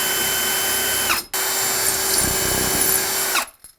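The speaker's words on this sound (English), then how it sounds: "I'm gonna take a drill bit that is slightly smaller than the screw, and I'm gonna pre-drill in from here" A power drill whines loudly and close while pre-drilling a screw hole in a cabinet, with two sustained runs separated by a brief stop, ending abruptly.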